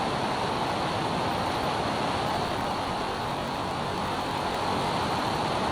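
A small airplane's engine drones in flight, heard from inside the cockpit as a steady, unbroken broadband roar with no change in pitch and no voices.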